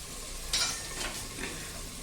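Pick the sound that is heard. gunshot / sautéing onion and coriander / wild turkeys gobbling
sautéing onion and coriander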